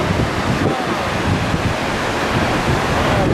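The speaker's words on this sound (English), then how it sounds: "it's like coming in waves of water" Spray and mist blowing off a waterfall in strong wind at Jasper National Park, a loud, continuous rushing hiss with heavy wind buffeting on the microphone and no clear pauses.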